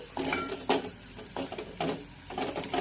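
Garam masala fries in a pan for a potato and cauliflower curry, with repeated scraping strokes of a spoon against the pan over a soft sizzle, close and fairly quiet, with no voices.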